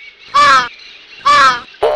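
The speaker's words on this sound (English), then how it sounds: "Lovely song, dear Crow" A crow in a children's cartoon fable about a fox and a crow gives two harsh, loud caws with a pause between them, and a third caw begins as the sound ends. No speech over it.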